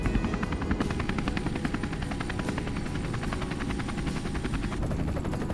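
A helicopter flies over snowy winter woods, its rotor heard from inside the cabin as a loud, steady rapid chop over a dense engine roar, with no voices.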